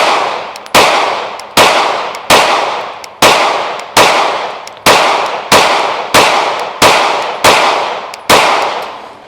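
An HK VP9 pistol fires at an outdoor target range, twelve loud, sharp gunshots at a steady pace roughly a second apart, each cracking close and then ringing away briefly.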